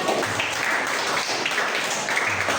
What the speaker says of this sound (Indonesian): mohon beri tepuk tangan untuk teman saya